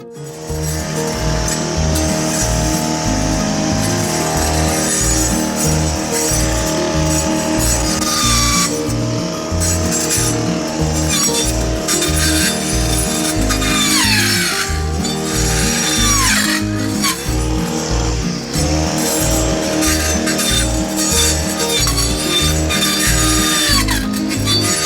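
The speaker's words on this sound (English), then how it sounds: "And for that I will use the weed whacker." A gas-powered weed whacker cuts down overgrown garden weeds while clearing a plot, its engine whining loud and steady throughout with shifting pitch as the line bites into the growth.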